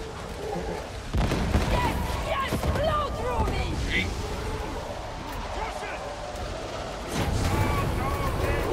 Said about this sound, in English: Nice, killed one with the lightning.